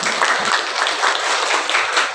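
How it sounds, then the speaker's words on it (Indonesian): An audience at the opening of an Islamic jurisprudence forum gives a burst of steady applause, many hands clapping together at close range without talk. "Tepuk tangan buat beliau."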